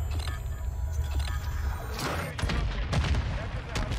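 Kastov 762 assault rifle fire in Modern Warfare 2, rapid bursts crackling under constant low game rumble, with heavier volleys near the end and a voice talking over the shooting.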